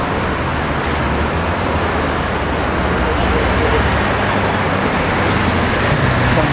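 Steady, dense roar of traffic on a busy main road by traffic lights, a continuous near wash of passing cars and heavier vehicles with no breaks, loud and unbroken throughout.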